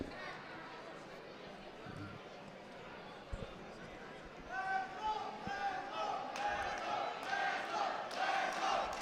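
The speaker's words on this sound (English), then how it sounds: "We have got the crowd going." A crowd at a high school wrestling match between Colerain and Northwest cheers and shouts in a sustained roar that swells partway through, with an announcer's voice faintly mixed in.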